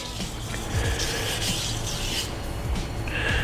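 A santoku kitchen knife is sharpened at the tip with curved half-moon strokes, giving a continuous soft rasping scrape of steel on a stone, close up and steady, with no speech.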